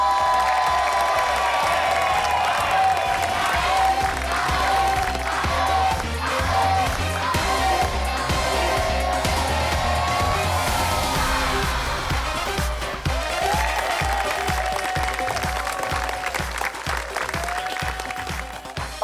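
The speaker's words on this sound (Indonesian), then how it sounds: "Tepuk tangan yang meriah untuk tim Sushi" A studio audience at a family game show applauds and cheers as a team is introduced. The clapping is sustained and loud, with whoops mixed in over a musical backing, and it lasts nearly twenty seconds.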